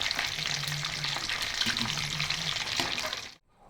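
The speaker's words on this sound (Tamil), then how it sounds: "இப்போ வந்து சிக்கன் வந்து நல்லா ஃப்ரை ஆயிடுச்சு" Chicken 65 pieces frying in hot oil give a steady, close, bright sizzle that carries on unbroken for about three seconds, then cuts off abruptly.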